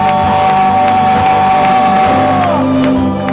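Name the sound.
church congregation applauding and cheering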